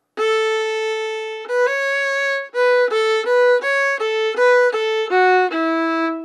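Fiddle playing the B part of the tune Forked Deer on single strings without drones, a clear sequence of sustained bowed notes in a steady phrase, close and solo.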